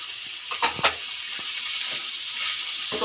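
Shredded cabbage and finely chopped onion dropped onto fried potatoes in a hot pan, a continuous close sizzle and hiss with a couple of sharp clinks and scrapes of stirring early on, no voices.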